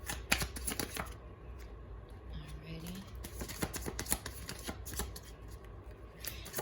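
Tarot cards shuffled by hand for a reading, giving quick papery riffles and soft snaps in a fairly even rhythm, close up over a low background hum.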